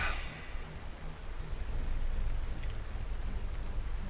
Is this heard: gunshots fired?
no